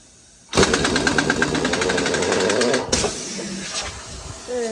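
An impact wrench hammers loose an axle nut on a Honda Civic wagon, a loud close rattling burst of about two and a half seconds, then a shorter, weaker burst as it spins down.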